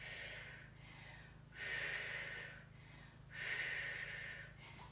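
Slow, deep breaths during a side-lying Pilates exercise, with two long breathy exhales swelling and fading in a quiet room, close to the microphone.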